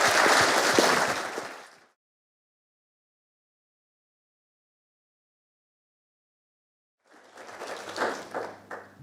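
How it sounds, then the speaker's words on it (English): A conference audience applauds its panelists in a short burst that fades out within two seconds, followed by silence and then a brief patch of other noise near the end. "So perhaps you want to show a round of applause maybe for our panelists."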